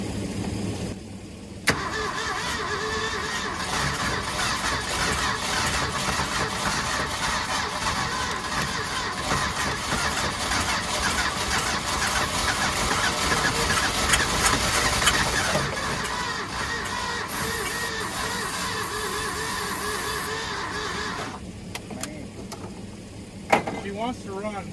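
A 1966 Ford FE V8 on full choke cranks and catches, then runs roughly at a steady mid-pitched drone for about twenty seconds before cutting off, with a sharp knock near the end.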